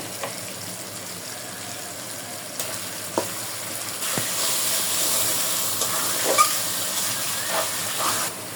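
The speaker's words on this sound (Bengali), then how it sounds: "টমেটো কিউব করে কেটে নিচ্ছি এটাও একটু মশলার সাথে কষায় নেব" Diced tomato sautéing with spices in a pan while cow brain bhuna is being made, a steady frying sizzle and hiss with a few sharp stirring clicks, close and fairly loud, no voices.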